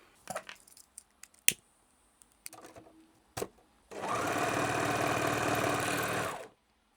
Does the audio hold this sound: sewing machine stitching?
yes